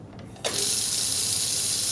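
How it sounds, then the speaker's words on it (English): Water gushes from a lab sink tap to drive a water aspirator for vacuum filtration, starting abruptly after a brief quiet moment and then running as a steady, loud, close rush with no talk. "Put the water aspirator on."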